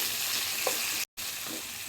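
Okra fries with salt and turmeric while being stirred in a pan, a close, steady sizzle with a few scraping stir sounds, broken by a brief moment of silence midway, no speech.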